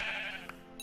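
A single sheep bleats in the Minecraft video game: one short, fairly faint bleat with no voices alongside.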